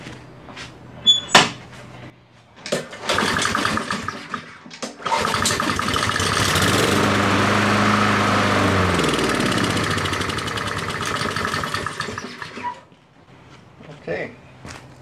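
A Honda HRS216 lawn mower, primed with fuel, is pull-started after a few clattering knocks, giving a sustained rough, sputtering engine burst of several seconds that fades, then more scattered handling clicks.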